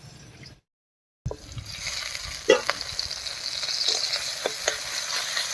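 Tomatoes frying in a pan as the lid comes off: after a brief silence, a steady sizzle rises and continues, with a few sharp spatters and light stirring clicks close by.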